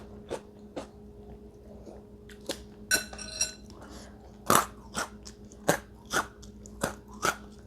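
Crisp, savory-sweet snack studded with lime leaves bitten and chewed close up: about a dozen sharp, loud crunches in an uneven rhythm, with a quick cluster of smaller crackles in the middle and no talking.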